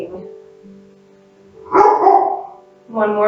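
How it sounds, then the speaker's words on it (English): A dog gives a few short, close barks and yips in a quiet room, with a pause between bursts. "Barking."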